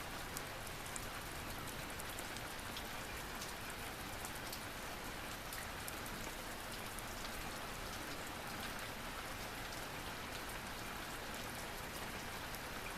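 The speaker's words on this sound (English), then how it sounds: "and the rain kept coming down." Steady rain falling at an old Japanese farm house, a continuous dense patter on surfaces that stays even and fairly loud throughout, with no voices.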